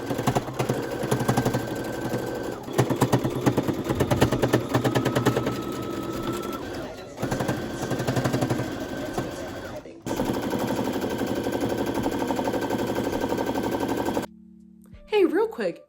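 A sewing machine stitches a bear bonnet in long, steady rapid bursts with brief pauses between runs, loud and close, while a voice talks over it.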